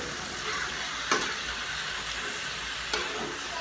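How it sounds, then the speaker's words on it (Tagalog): Squid afritada with soy sauce sizzles steadily in a pan while it is stirred, with two sharp clacks of the utensil against the pan over the frying. "Then, haluin na natin kaagad to."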